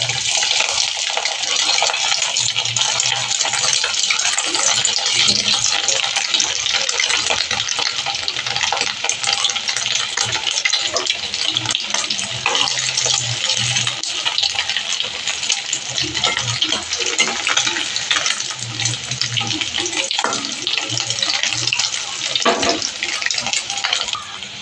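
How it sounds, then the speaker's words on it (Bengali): Pieces of food frying in hot oil, a loud, continuous sizzle and crackle close by that runs steadily the whole time, with faint clinks and a low voice in the background. "তেলটা গরম হয়ে গিয়েছে, আমি এবার এক এক করে ভেজে নেব।"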